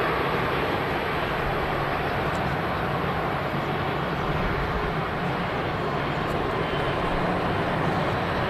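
A 15-year-old Vueling airliner at Manchester Airport produces a steady, loud broadband engine roar that holds without pause, with no voices over it.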